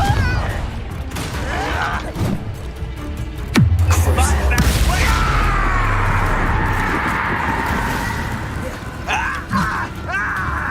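Confringo spell explosions in Hogwarts Legacy combat: a dense, loud run of magical blasts, a heavy booming impact, crackling and whooshing effects, with grunts and voices mixed in.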